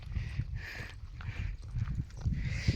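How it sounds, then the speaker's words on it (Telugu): Cows fleeing across the ground at an eco park, their hooves thudding in an irregular run of dull, close impacts that continues for about three seconds with no talk. "ఇక్కడ ఆవులు ఉన్నాయి, మనం చూసి భయపడి పారిపోతున్నాయి"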